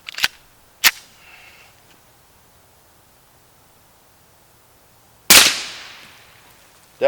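Suppressed 9mm subsonic pistol shots through a Liberty Cosmic suppressor: three sharp cracks near the start and end and one louder report with a long decaying tail, separated by quiet gaps.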